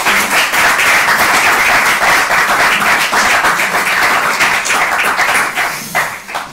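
An audience at a book presentation applauds with dense, steady clapping that fills the room, then tapers slightly at the end.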